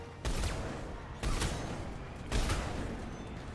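Turret gunfire in the Mass Effect 3 video game comes as three separate bursts about a second apart, each a sharp booming volley with a short decaying tail, moderately loud against quiet background.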